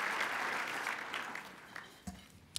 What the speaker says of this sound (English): the rest of us can show our appreciation by applauding our council, our city staff, our community volunteers with one big round of applause